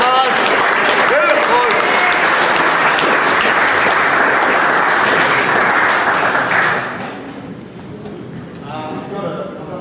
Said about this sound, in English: Good applause.